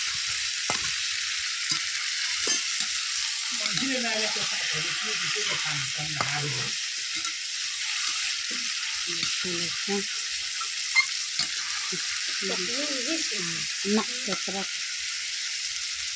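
Saag greens frying in a small kadhai make a constant hissing sizzle, with occasional low clinks and brief soft voices underneath.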